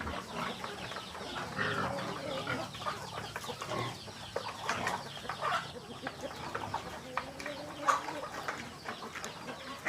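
Native chickens and chicks cluck and chatter continuously in a busy provincial farmyard with turkeys, scattered bird calls layered over steady background noise.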